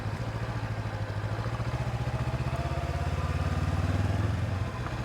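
A motorcycle engine chugs in a steady, close, rhythmic putter as it rides between the temples at Koh Ker in Cambodia, swelling slightly toward the end with no voices over it.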